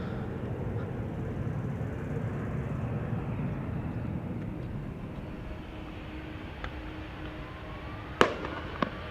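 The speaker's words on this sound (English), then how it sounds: "Well, just one round of fireworks." New Year fireworks near Amsterdam Schiphol Airport crackle as a faint, distant rumble under steady background noise, ending in a few sharp, louder bangs.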